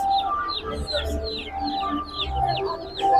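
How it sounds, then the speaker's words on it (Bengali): A flock of broiler chickens at a Kazi Farms poultry farm clucks and chirps continuously, with many overlapping calls close by. "এই যে এগুলো হচ্ছে ব্রয়লার চিকেনস"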